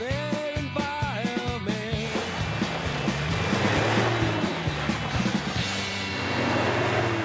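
A Ford Bronco ploughs through an off-road water crossing, a broad rushing splash swelling after a short tonal, music-like opening and holding loud and close to the end.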